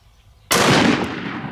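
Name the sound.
450 Marlin rifle shot, Buffalo Bore 430 grain hard cast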